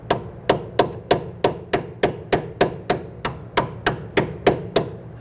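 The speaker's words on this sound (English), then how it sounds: "you can use a brass punch or small chisel to go ahead and just tap this up" A brass punch or small chisel tapped against the steering shaft U-joint to work it loose, during a starter replacement on a 2008–2013 Infiniti G37x 3.7L V6; about fourteen sharp, even metallic knocks at a steady rhythm, close up.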